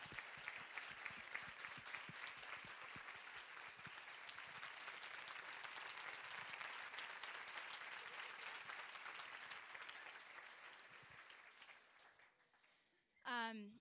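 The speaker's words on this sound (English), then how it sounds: "I hope that everyone will join me in a huge round of applause" An audience at a talk about students from Haiti and New Orleans rebuilding their lives gives a long, sustained round of applause, dense clapping from many hands that gradually fades out, followed by a voice resuming at the end.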